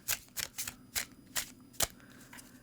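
Familiar Field Oracle cards shuffled close up, a quick run of crisp riffling bursts about every half second, quiet and with no talking.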